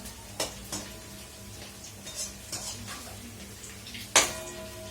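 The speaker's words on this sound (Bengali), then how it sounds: "জাস্ট আর একটুখানি ভাজা হচ্ছে।" Coated baby corn fries in hot oil for a crispy chilli snack, giving a soft sizzle with scattered ticks and clinks of a utensil against the pan and one sharper knock near the end.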